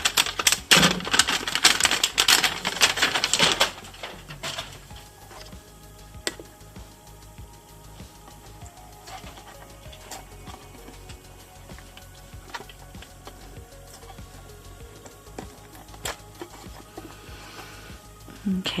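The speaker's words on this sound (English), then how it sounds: "So I'm trying to carefully unwrap it so they don't damage the handles." Plastic wrap is carefully peeled from the small handles of a toy refrigerator. The result is a burst of close crinkling and rustling at first, then quieter intermittent crackles and light ticks.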